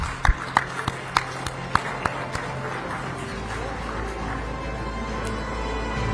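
Audience clapping at a health awards ceremony in India: sharp scattered claps at first, then a steady continuous wash of applause from a crowd, moderately loud and close.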